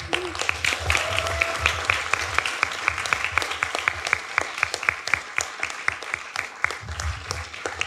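Audience at a film event applauding and cheering, a dense steady wash of clapping with sharp individual claps standing out, lasting the whole stretch at close range.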